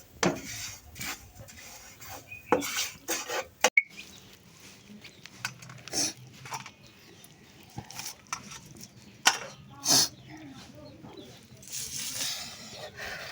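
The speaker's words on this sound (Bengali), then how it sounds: "এই যে এখানে তিল ভাজা হচ্ছে।" Sesame seeds roasting in a pan, heard as intermittent scraping, rattling and stirring against the pan in irregular bursts, fairly close, with occasional faint voices in the background.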